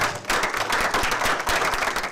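Audience applause at a civic meeting, a dense burst of many hands clapping that starts abruptly and holds steady at close range for about two seconds.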